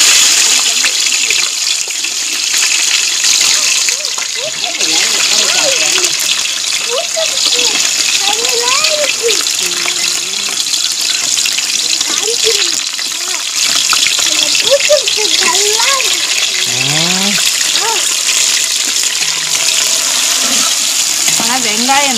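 Onions frying in a pan for biryani after whole spices, with a steady broadband sizzle running throughout, close and fairly loud, while people talk over it in the background.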